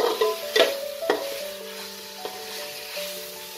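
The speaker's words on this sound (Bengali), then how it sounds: "এবার আমি 10-15 মিনিট চিকেনটাকে খুব ভালো করে মশলার সাথে কষিয়ে দেব।" Chicken is stir-fried with spices in a pan for Hyderabadi chicken tahari, with clattering scrapes and clinks from stirring at the start over a softer, steady sizzle.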